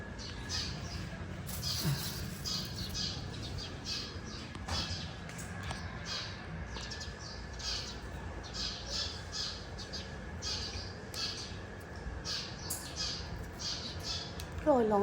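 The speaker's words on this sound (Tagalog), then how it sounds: "Tapos may ibon pa, diba?" A bird squawks repeatedly in sharp, harsh bursts outdoors, with faint background noise and occasional distant voices.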